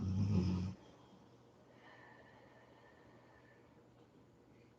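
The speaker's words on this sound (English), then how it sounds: "If you just heard a loud snorting" A big bull mastiff lets out a short, loud snort while lying asleep, a brief rough burst at the start followed by faint room hush.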